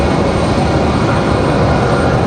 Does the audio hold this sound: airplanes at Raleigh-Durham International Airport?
yes